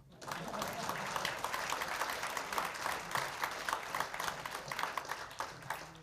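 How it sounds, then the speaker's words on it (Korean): Audience applause at a commemorative ceremony for Seoul doctors' day, a steady wash of clapping rising after a brief pause and continuing for several seconds at moderate distance. "왜 박수 안 쳐요?"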